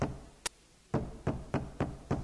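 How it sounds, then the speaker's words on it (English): Angry banging on a neighbour's wooden house door: one sharp early hit, then a steady run of five heavy knocks, close and loud with no voices. "She banged on the door"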